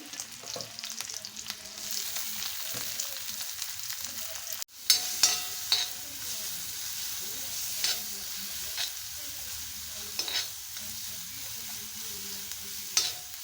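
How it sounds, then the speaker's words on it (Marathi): Onion dropped into a pan of frying garlic, a steady broad sizzle with scattered crackles and a sharp burst partway through as it goes in, close and without any talk. "लसूण भाजल्यावर मस्त छानपैकी वास येतो थोडासा कांदा घालते"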